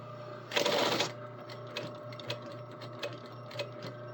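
A sewing machine stitching a trouser inseam opens with a short, loud burst of fast stitching, then settles into soft, evenly spaced mechanical ticks over a low steady hum.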